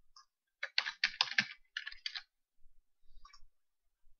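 Computer keyboard typing in a quiet room: a quick burst of crisp clicking keystrokes, a short pause, another run, then a few scattered soft taps.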